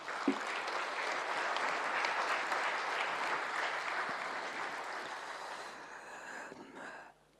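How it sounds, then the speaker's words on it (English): Applause from an audience at a New Year diplomatic ceremony in Tanzania, a sustained wash of clapping that holds steady for several seconds, then thins and stops abruptly. "please, another round of applause."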